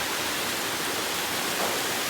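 Waterfall at Winding Stair Gap near Franklin, North Carolina, on a mountain trail: a steady, dense broadband rush of falling water, close and continuous without break or voices.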